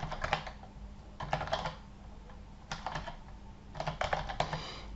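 Fingers type on a computer keyboard in short bursts of quick clicking keystrokes, close and fairly quiet, separated by brief pauses with no talk.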